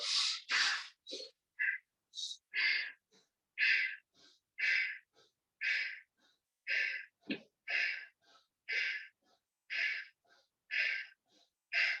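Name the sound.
breathing in and out during a yoga exercise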